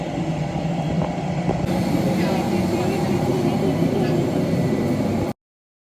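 Steady broadband roar of aircraft engines heard from inside a passenger airplane cabin on a flight to Dublin, constant and loud throughout before cutting off abruptly.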